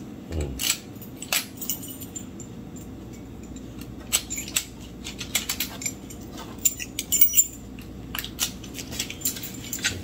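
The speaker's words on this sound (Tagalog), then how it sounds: "Dami niya susi." A bunch of door keys for a Schlage door knob jangle in repeated metallic bursts close by, scattered clinks and rattles through a quiet room with no talking.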